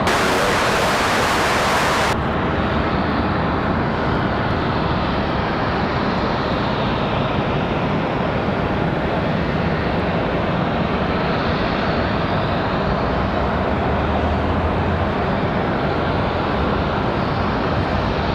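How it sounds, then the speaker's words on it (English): A Southwest airliner taking off at night at Raleigh-Durham airport, a broad roaring jet rumble that swells and holds steadily, loud and unbroken throughout. "Southwest on the move, getting ready to depart. Clear for takeoff."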